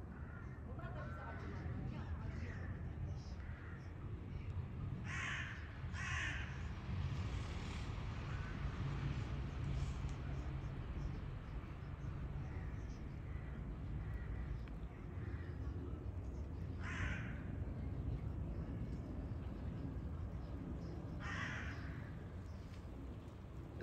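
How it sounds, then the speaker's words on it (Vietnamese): Crows caw a few times from a tree below a balcony beside a home vegetable garden, the calls set back in a steady wash of outdoor background noise. "Còn từ nãy giờ mà các bạn nghe thấy cái tiếng mà tiếng quạ kêu á, đó là tiếng của mấy con quạ đó các bạn."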